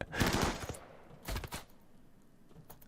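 Turrets in RimWorld fire in two rapid bursts of gunfire, a dense rattling volley at the start and a shorter one a second later, with quiet gaps after each.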